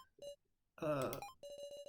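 A phone rings in the video game Your Turn To Die. A short electronic ringtone sounds in repeated pulsing bursts, with a denser, harsher burst in the middle. It is fairly faint and brief.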